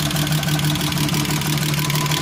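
A freshly rebuilt VW VR6 turbo engine idles steadily close by, with a low, even hum and a light rhythmic ticking of new lifters clattering over it.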